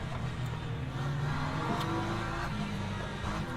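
Hypercar engines drone in the Le Mans Ultimate racing game, a steady mid-level roar of cars racing at speed with a slight rise in pitch, no voices.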